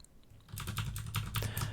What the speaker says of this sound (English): you can press the page down, page up, home, or end keys on your keyboard